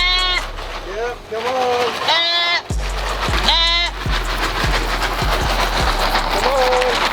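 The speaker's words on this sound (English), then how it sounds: "The little baby goat and her mom we rescued is also going to come out and join us today with some grazing." Goats, a rescued baby and its mother, bleat repeatedly and loudly at close range outdoors, several quavering calls spread across the clip, with a person calling to them and a low steady rumble underneath.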